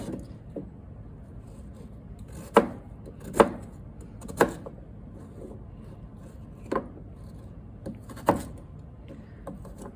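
Knife chopping through a rutabaga on a cutting board, cutting it into wedges: about half a dozen sharp, separate chops spaced irregularly over a low room hum, fairly close.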